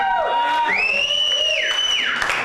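Comedy club crowd whooping and cheering loudly, with piercing rising whistles and shouts ringing out close by, more yelling than clapping, in one short burst.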